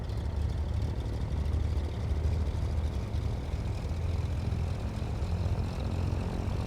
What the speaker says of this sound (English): you start it like goes, but then it, you know, the turbocharger's gotta spin up